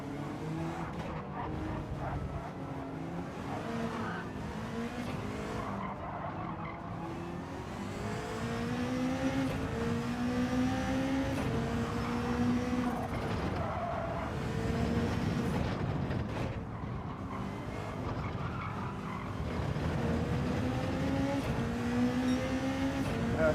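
GR4 race cars in the Gran Turismo 7 video game roar continuously, with engines rising through gears in repeated climbing whines and tyres skidding now and then. It is a dense, sustained racing din with no talk.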